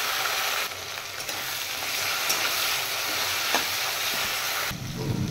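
Chopped tomatoes frying in a pan with cooked onions, a dense steady sizzle and crackle, loud and close, with a few light stirring knocks and no talk.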